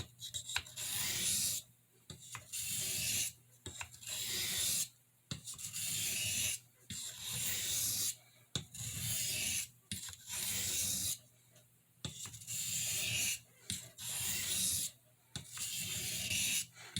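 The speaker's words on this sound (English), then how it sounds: "I'm going to lighten up on the pressure. And sharpen the blade." A Boker Red Jig Bone C75 pen blade of fairly hard steel is drawn again and again across a sharpening stone with light pressure, making rhythmic rasping strokes separated by short pauses.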